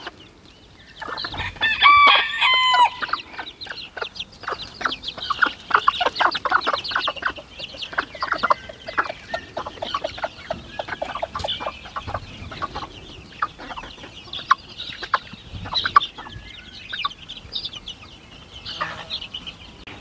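Chickens cluck busily inside a shed, with a rooster crowing near the start and a steady stream of close, overlapping clucks and short calls throughout.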